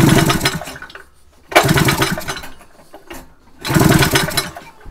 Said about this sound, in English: We're going to do a compression test on this Rotax number 3, starting with the PTO side.